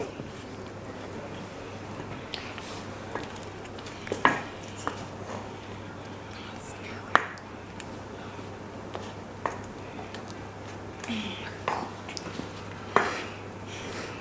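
A spoon works through thick Betty Crocker cupcake batter in a bowl, giving quiet, sparse scrapes and a few light clinks against the bowl over a low steady background.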